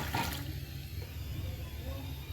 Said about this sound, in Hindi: अब इसमें पहले थोड़ा सा पानी डाल लेंगे।